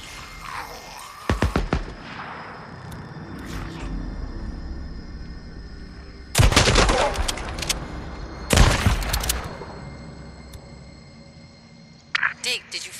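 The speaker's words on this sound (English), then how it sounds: "I hear gunshots" Several sharp bursts of gunfire in the video game Days Gone ring out in separate volleys over a low game ambience, with talking heard in between.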